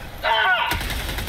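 A single gunshot from a teammate in the co-op shooter Helldivers 2, a sharp crack that follows a short burst of shouting.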